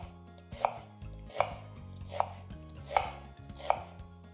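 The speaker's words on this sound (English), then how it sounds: "I'm going to slice the onions up." A knife slicing onions on a cutting board, five crisp, evenly spaced chops close up and fairly quiet, with no talking.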